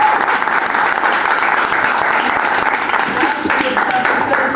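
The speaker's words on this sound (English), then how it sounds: "Now everyone clap for yourselves." An audience applauds at a personal-improvement talk, with steady, loud clapping from a crowd sustained for several seconds without a break.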